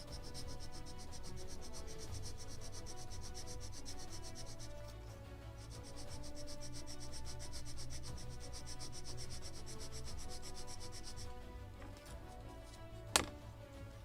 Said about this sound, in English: Definitely it's sanding much faster.